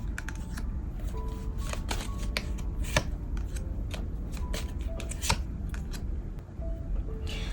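Tarot cards being shuffled by hand, a steady stream of soft papery riffles and flicks with sharper snaps, close up over a low background hum.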